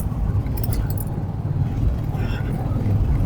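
Motorbike engine on an early-morning ride in Hyderabad, pulling from low revs in fifth gear, a steady close engine rumble mixed with wind roar, with some light metallic clinks.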